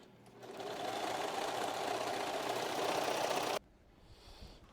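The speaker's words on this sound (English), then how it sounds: "pull it taut and give it a nice sew through" Sewing machine stitching a swimsuit, a fast steady motor whir and needle chatter running for about three seconds before stopping abruptly, followed by quiet fabric handling, close and fairly soft.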